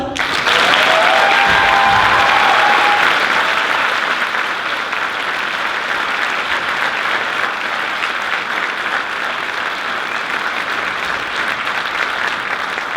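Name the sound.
round of applause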